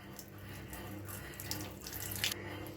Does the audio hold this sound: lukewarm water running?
yes